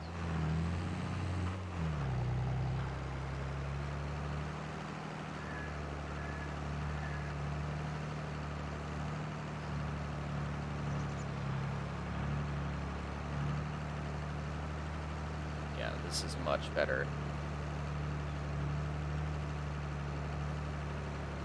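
A farm tractor on a dairy farm in Westby, Wisconsin runs with a steady low diesel drone heard from inside the cab, constant and even, with a brief spoken remark near the start.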